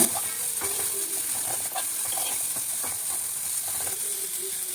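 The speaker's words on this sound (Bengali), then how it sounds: "সব মশলাগুলোর সঙ্গে ভাজা ভাজা করে" Spices sizzle in a pan with garlic, salt and turmeric, a steady close frying hiss broken by repeated scraping stirs of a spatula, with no talking.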